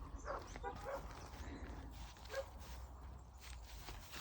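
A puppy on a street in Ireland gives a few faint, short yips and barks, spaced apart and heard at a distance against outdoor background noise.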